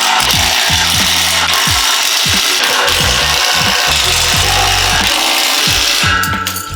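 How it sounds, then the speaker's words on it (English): Squat rack hardware bolts being cranked tight with a wrench, a loud, close, rhythmic ratcheting rasp repeating in quick strokes throughout with short pauses between. "go back to all of our hardware that we previously tightened and really just give it an extra crank"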